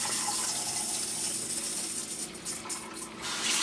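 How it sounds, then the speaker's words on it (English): Water poured into a pan of thick cheese sauce, a steady gushing trickle close up that runs unbroken for a few seconds, heard alone without talk. "I am going to add a little bit of water in here"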